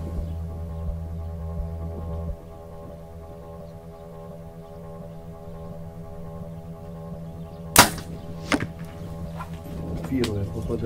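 An archer shoots Maximal Carbon Edge carbon arrows at a 50-metre range: a steady low hum, then a sharp snap of release near the bow followed by a couple of fainter thuds and clicks.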